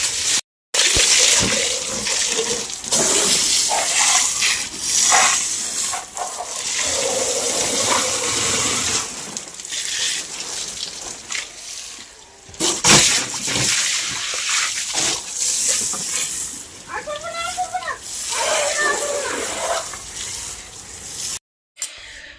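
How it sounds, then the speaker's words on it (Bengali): Water splashes and pours repeatedly during an outdoor bath, loud close sloshing bursts with brief pauses between pours. "ভরে নিয়ে স্নান করবো"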